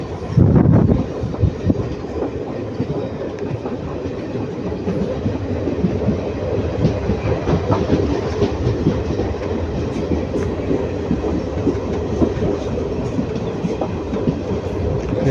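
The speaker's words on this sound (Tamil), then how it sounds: "ட்ரெயின் எப்படி வளைஞ்சு போகுதுன்னு பாருங்கள்." A South Indian Railway train runs along the forest route between Dharmapuri and Salem. The wheels rumble and clatter in a continuous, fairly loud roll, with a steady clickety-clack throughout and no voices.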